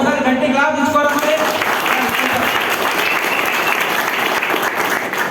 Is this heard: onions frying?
no